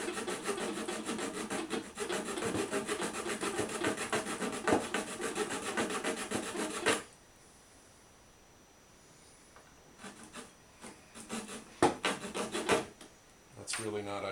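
A hacksaw blade cuts into wood in quick, rhythmic back-and-forth strokes, close and steady for about seven seconds. It then falls quiet, with a few scattered scrapes and taps near the end.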